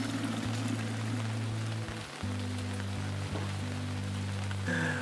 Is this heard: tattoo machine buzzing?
no